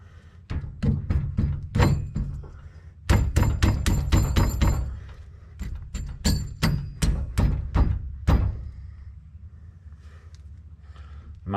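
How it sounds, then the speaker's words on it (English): Hammer blows driving king pins in during a disc brake conversion on a 1963 VW Beetle, a long series of loud, close metallic strikes in quick bursts of several hits each, with brief pauses between groups. "You might just want to hammer them in a little bit"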